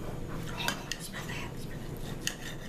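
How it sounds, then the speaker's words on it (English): Knife and fork cut a pork chop on a dinner plate, making light scraping and clinking taps with a few sharper clicks over a steady background hum, close and quiet. "my wife has to cut my meat for me so that I can eat it"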